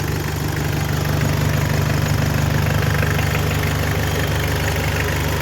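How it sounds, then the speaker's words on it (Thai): A Mitsubishi Strada pickup's engine idles steadily after starting, a continuous low rumble with an even mechanical hum, close and alone throughout. "เดี๋ยวว่าจะ สตาร์ทเครื่องไว้สักพักหนึ่งนะครับ"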